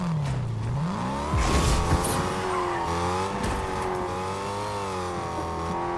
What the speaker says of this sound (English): He popped my tire.